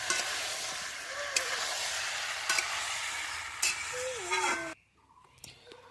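Young jackfruit sizzles and scrapes as it is stir-fried in a pan outdoors: a steady, fairly close hiss of frying with occasional stirring knocks, which stops abruptly near the end, leaving quieter background sounds.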